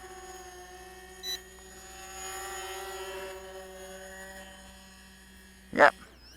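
An XK X520 VTOL drone in drone mode auto landing, its steady rotor hum and whine running throughout with a brief sharp noise near the end, moderately loud and close.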